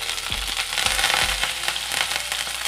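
Curry leaves dropped into hot oil with mustard seeds and green chillies for lemon rice, giving a loud, steady crackling sizzle with sharp pops and spits near the pan, no voices.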